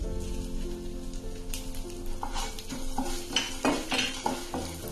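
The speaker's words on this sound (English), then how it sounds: "Now let us fry them together. The chana and the urad are getting roasted well." Chana dal and urad dal fry and roast in a pan with a steady close sizzle, while a utensil stirs and scrapes through the lentils in bursts.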